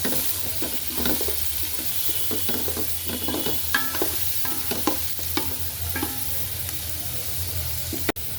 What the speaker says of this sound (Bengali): তেলের মধ্যে একটু হালকা ভাজা নেই